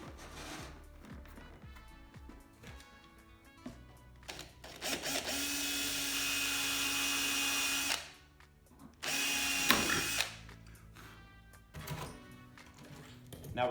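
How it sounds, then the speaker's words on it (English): Power drill at slow speed driving a screw into the side of a 2x4 while a form for a perlite oven is built; two long, steady whirring bursts with a short pause between, plus shorter bursts and clicks of handling around them. "I'm going to go on a slow speed on the drill"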